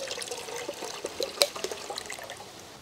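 Tender coconut water pours out for a halwa recipe, a short splashing, trickling stream of liquid, close and alone.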